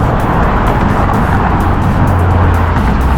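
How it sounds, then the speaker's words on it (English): Steady, loud traffic roar as cars drive across the Golden Gate Bridge in San Francisco, heard from the pedestrian walkway, a continuous rumble of engines and tires close by with no gaps. "A lot of cars drive over this bridge."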